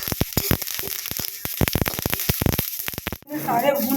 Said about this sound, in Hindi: तिल को भून लेते हैं। ये भी देखिए कितना चटक रहा है।